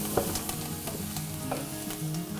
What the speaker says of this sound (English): Just give you a quick saute just to soften the vegetables lightly and bring out the flavours.